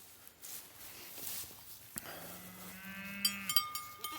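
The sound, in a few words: cows bawling in the distance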